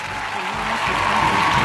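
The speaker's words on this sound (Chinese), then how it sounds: "我们要把掌声送给一博" Studio audience applauding a shooting-game winner at a Chinese live-stream promotional event, a steady, dense burst of clapping that stays loud throughout with no voices over it.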